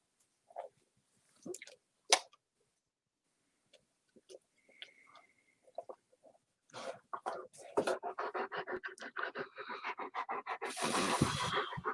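A dog pants in rapid, rhythmic breaths that grow loud and steady in the second half, after scattered quiet sounds and brief human noises at the start.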